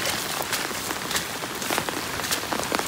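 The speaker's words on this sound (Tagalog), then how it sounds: "At palakas pa rin yung ulan niya." Heavy rain pours steadily over irrigated farm fields, a dense, loud, continuous hiss of drops striking surfaces with no voices.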